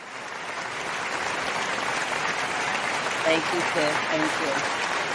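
An applause sound effect plays, with steady clapping filling the whole stretch at even loudness while a voice briefly speaks over it.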